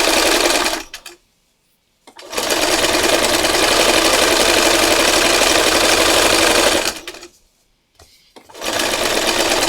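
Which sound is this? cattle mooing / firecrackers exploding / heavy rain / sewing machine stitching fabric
sewing machine stitching fabric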